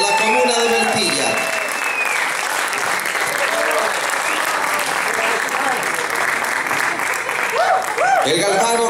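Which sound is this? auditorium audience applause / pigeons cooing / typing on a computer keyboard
auditorium audience applause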